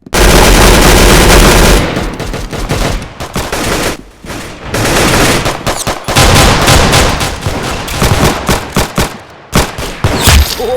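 Gunshots in a video game ring out in loud, rapid volleys. Close, sharp bursts repeat in clusters with brief pauses between them, and no one talks.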